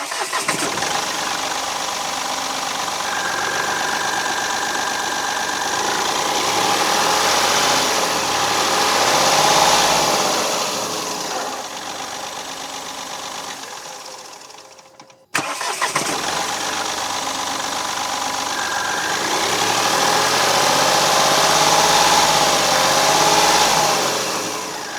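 The engine of a 2026 Mahindra Bolero Neo N10 SUV runs at a steady idle with a constant low rumble and hum, briefly cutting out midway before resuming at the same even level.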